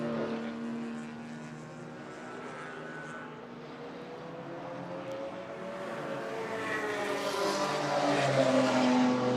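A Mazda 6 race car crossing the finish line at a circuit race: a tonal engine drone that swells louder and higher as the car nears, with other race engines droning around it.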